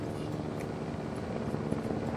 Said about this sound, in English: How's the helicopter doing?